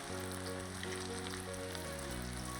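Crispy chicken pieces frying in hot oil, a dense continuous sizzle holding steady and close, with a constant low hum beneath it.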